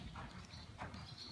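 Horse hooves clip-clopping during a riding lesson in an arena, a steady, moderately near rhythmic beat of footfalls with no talk over it.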